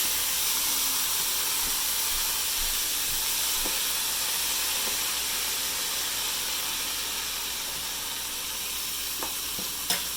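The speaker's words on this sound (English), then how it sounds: "we're going to add them and saute them until they are well mixed with the spices" Cauliflower florets sauté with spices in a hot pan, giving off a steady, fairly loud sizzle and hiss with a few faint stirring clicks and no talking.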